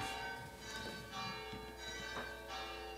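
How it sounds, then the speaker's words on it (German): Church bells in Sardinia ring at noon in a chaotic, overlapping peal. Sustained metallic tones clash continuously, moderately distant and fairly soft, with a few knocks and rustles near the microphone. "dieses Durcheinandergeläute bedeutet Mittag"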